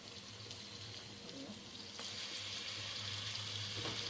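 Two tomatoes frying in a pan for chicken biryani give a steady, soft sizzle with a faint watery hiss, which grows slightly louder partway through. No one speaks.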